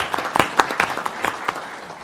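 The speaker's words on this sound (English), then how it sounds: "I would love it if we could give a round of applause and great gratitude to Steve" Scattered claps from a county board meeting audience honoring a long-serving sheriff's posse member, a handful of sharp hand strikes in uneven rhythm rather than a full ovation, moderately close.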